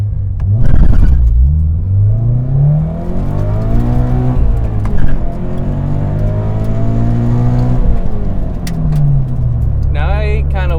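A car fitted with Faction Fab lowering springs launches and accelerates hard. The engine roars loud and close, rising steadily through the gears with brief dips at the shifts, and a sharp whine comes near the end.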